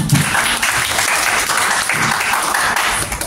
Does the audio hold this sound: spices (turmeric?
no